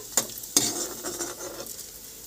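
Okra pieces fry in hot oil with a soft, steady sizzle, broken by a few sharp clinks of a spatula stirring the pan, close and fairly quiet, with no voices.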